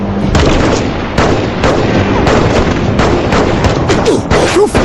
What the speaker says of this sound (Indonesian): Akhirnya para polisi berdatangan dan aksi baku tembak pun gak bisa dihindarkan.